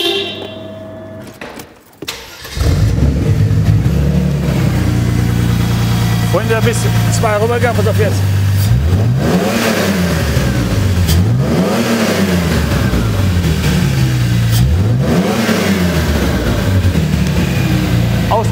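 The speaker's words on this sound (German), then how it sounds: "Wir haben den Auspuff jetzt hinten ab, der wird jetzt ein bisschen lauter sein als andere Autos." An older car with its rear exhaust removed starts up and revs hard, the engine rising and falling in repeated loud swells after a brief quiet start, with someone speaking over the noise up close.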